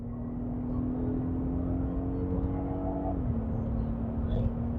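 A BMW 528i F10 engine holds a steady drone under light throttle, its note dropping slightly partway through, heard from inside the car over road noise.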